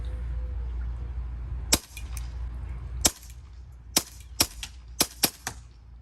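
Novritsch SSP-5 airsoft pistol fired for the first time, giving seven sharp, crisp pops at uneven spacing, two early and then a quicker run of five, each clear and close over a low steady background hum.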